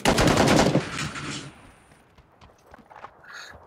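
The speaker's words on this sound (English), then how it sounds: "he just shot out one of the windows" Gunfire in the battle-royale video game PUBG: a loud, rapid burst of automatic shots for about a second, trailing off into quieter scattered noises and a faint later thump.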